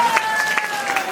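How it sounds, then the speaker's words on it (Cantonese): Applause from a ceremony audience at a patient-care foundation's 15th anniversary celebration, a brief burst of clapping with a steady tone and some voices underneath. "大家俾啲掌聲好唔好啊"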